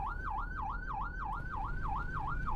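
Police siren in a taxi driving video game, a rapid wailing yelp rising and falling about three times a second over a low engine rumble, steady and moderately distant.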